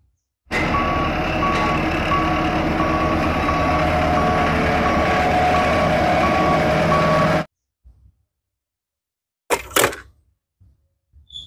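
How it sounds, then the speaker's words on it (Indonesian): A toy sand truck gives a loud, evenly spaced run of reversing beeps over a constant electronic hum for about seven seconds, then stops abruptly, followed by a few faint clicks and a short bump. "lihat di sini ada mobil truk pasir"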